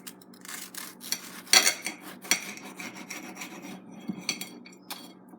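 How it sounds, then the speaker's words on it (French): A knife saws through a crushed egg sandwich to cut it into four pieces, giving close, faint, gritty scraping strokes with small clicks against the plate, and no talk. "Vous prenez un couteau et vous le coupez en 4."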